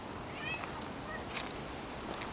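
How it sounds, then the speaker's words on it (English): Cat outdoors in a summer garden giving a couple of faint, short meows over a soft, steady outdoor hiss. "I think the cat wants to go in."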